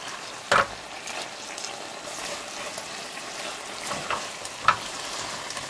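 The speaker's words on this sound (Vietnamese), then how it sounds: "Xào thêm một chút nữa cho sả khoanh nó dậy mùi là được rồi." Eel stir-fries in a pan with sliced lemongrass and chili, giving a steady close sizzle broken by a few sharp clacks of stirring against the pan.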